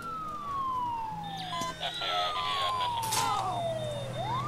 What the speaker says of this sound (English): there's the ambulance going